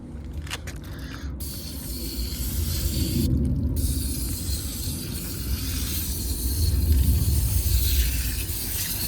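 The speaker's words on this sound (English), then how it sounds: "So let's get started on spraying it down." Continuous hissing spray of water striking the metal coils of an air-conditioning unit up close, a broad steady wash with brief breaks and shifts in intensity.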